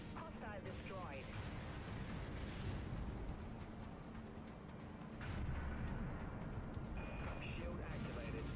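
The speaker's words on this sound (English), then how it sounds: "All silos launch missiles." Missiles launch from silos in The Outer Worlds: a continuous heavy roar with rumbling blasts and bursts swells louder midway, while in-game voices speak over it.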